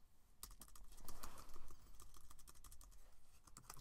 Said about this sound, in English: I can just go ahead and type it in